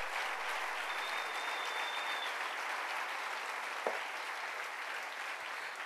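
Sustained, dense applause from a church congregation, even and continuous throughout, with one brief sharp knock partway through.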